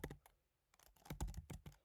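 Quick, uneven bursts of keystrokes on a computer keyboard, close by, with a short pause before the clacking resumes.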